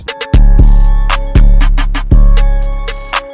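A loud electronic beat in FL Studio with punchy bass hits and bright synth chords, the melody's level sinking gradually under automation after each hit before surging back.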